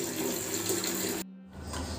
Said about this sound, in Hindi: तो टॉयलेट में आई हूँ पानी लेने के लिए।